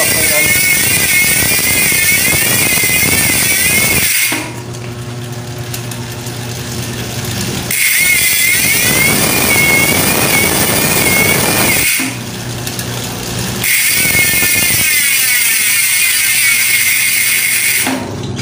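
Bicycle freehub ratcheting as the crank is pedaled backward, a loud, fast, steady buzzing click that runs continuously, with brief pauses where the pedaling stops and restarts.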